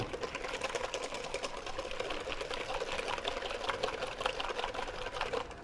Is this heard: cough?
no